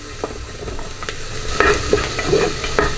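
Chopped onion sautés in a pan with a steady, close sizzle, broken by scattered clicks and scrapes from a stirring spoon.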